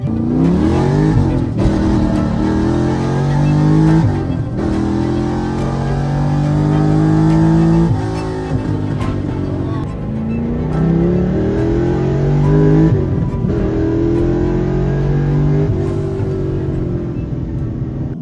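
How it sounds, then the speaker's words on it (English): An LS3-swapped Porsche Cayman with a stage 3 cam, big injectors and straight pipe exhaust revs repeatedly, loud and close, its raw bark rising and falling without talk. "This is a stage 3 cam, big injector LS3. So it's got straight pipe exhaust."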